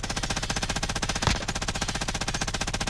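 Rapid automatic gunfire in a shooter video game, a dense, even stream of loud close shots running unbroken for a few seconds, with one brief sharper burst midway and no talk.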